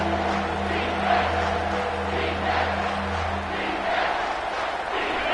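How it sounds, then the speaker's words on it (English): A football stadium crowd roars during a third-down defensive stand, a dense, sustained wall of cheering and noise that swells and stays loud throughout. "decibels rising as the crowd gets behind this defense on third down"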